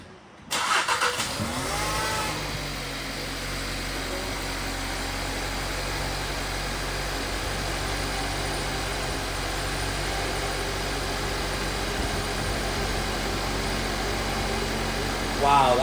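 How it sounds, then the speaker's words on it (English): A 2016–2018 Volkswagen Jetta TSI engine catches after a brief crank and settles into a smooth, steady idle, close and even, with a voice talking over it. "it literally started up and just idled perfectly"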